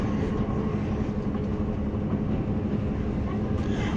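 A train rolls into Bristol Temple Meads station, a continuous loud rumble of wheels and carriages on the rails with a steady, low-heavy roar throughout.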